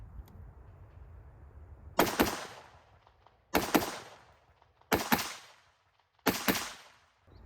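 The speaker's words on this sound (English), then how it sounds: "Now we're going to take 2 shots" Rifle shots from a Cobalt Kinetics rifle fitted with a muzzle brake, four sharp loud reports spaced about 1.5 seconds apart, each with a short decaying tail, no talking.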